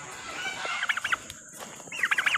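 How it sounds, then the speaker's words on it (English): Turkeys on a farm gobble in short, rapid, rattling bursts at close range. One burst comes early and a second near the end, over a steady background hiss. "Hi, turkeys."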